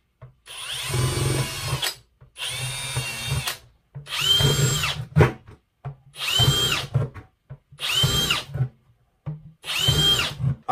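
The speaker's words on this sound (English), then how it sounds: "we're gonna drill a bunch of holes in the bottom of this bucket" A power drill bores holes in the bottom of a plastic bucket in six separate bursts of roughly a second each, loud and close, with brief pauses in between.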